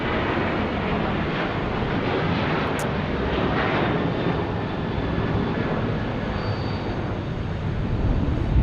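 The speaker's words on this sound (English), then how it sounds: "Going to Seattle on the 737-800 for Delta Airlines." A Delta Airlines Boeing 737-800 at Phoenix Sky Harbor Airport gives a loud, steady, broadband jet engine roar that holds for several seconds without letup, with no voices.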